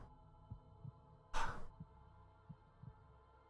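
Slow, soft heartbeat thuds in the soundtrack of the game Traum, evenly spaced low pulses over a quiet hum, interrupted once by a brief louder whoosh.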